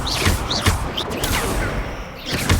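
Incendio fire spell cast during a championship duel in the video game Hogwarts Legacy, a burst of crackling, whooshing blasts with repeated thumping impacts, loud and dense throughout.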